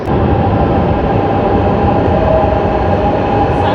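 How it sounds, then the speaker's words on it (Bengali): Milan metro train pulling into a station, a steady loud broadband rumble and rail roar sustained throughout with a faint high whine, no clear voices. "এই যে আমাদের ট্রেন চলে আসলো।"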